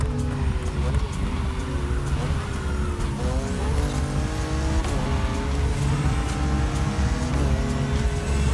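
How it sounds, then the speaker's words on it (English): Race car engines whine and rev continuously in The Crew Motorfest beta, with shifting pitch and occasional tire squeals, a voice talking now and then over them. "Whoa, the car sounds are different."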